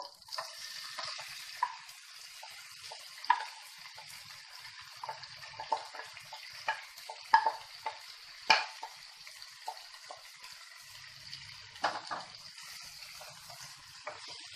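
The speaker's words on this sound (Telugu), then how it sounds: "ఈ చికెన్ని మనము ఈ ఆయిల్లో కలుపుతూ ఫ్రై చేసుకోవాలి" Boiled chicken pieces fry in hot oil while being stirred for a green chicken dish, a faint, steady sizzle broken by scattered scraping clicks of the spoon, quiet and close with no voices.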